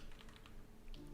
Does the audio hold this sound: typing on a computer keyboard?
yes